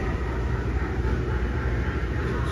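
A little toy train on the base of a Halloween animatronic in a store runs with a steady low rumbling clatter, continuous and fairly quiet.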